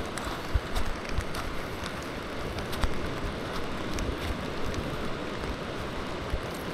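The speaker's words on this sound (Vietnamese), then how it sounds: "Hiện tại trời vẫn đang mưa" Rain keeps falling on the Hai Hau beach after a storm and prolonged flooding, a soft, steady hiss with scattered drops and light gusts, fairly distant and with no talk.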